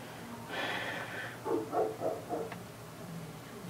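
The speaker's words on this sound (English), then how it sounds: "Sorry if you hear that dog, it's the neighbors." A neighbors' dog barks in a short run of muffled, mid-distance woofs, heard faintly indoors without talk.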